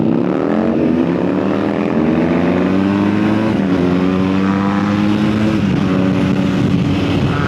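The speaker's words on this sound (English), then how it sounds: "This will be interesting between the Harley next to me, the wind and all that." A Harley motorcycle rumbling alongside at highway speed, a loud, steady engine drone with shifting harmonic tones blended with constant buffeting wind, close and without talk.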